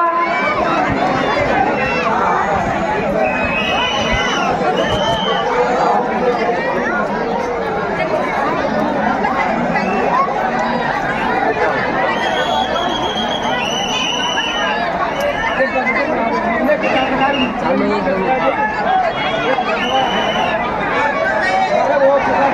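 A dense crowd of devotees gathered at a temple feast chatters all at once in a loud, continuous babble, many voices overlapping nearby without pause.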